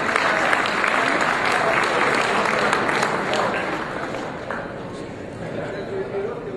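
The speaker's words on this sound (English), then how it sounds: "let's give a round of applause to Anastasios Manessis." A room of dinner guests at an awards dinner gives a sustained round of applause for Anastasios Manessis, loud, dense clapping that holds steady and then eases slightly toward the end.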